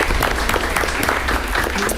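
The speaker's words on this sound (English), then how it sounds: "one more round of applause." A school board meeting audience gives a round of applause, loud, dense, continuous clapping from a room full of people throughout.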